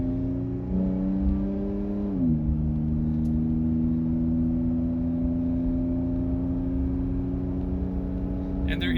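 A Toyota Tacoma engine fitted with an AFE Momentum GT cold air intake and throttle body spacer hums at steady revs, its tone stepping up once early and then holding, with a faint whine over the drone.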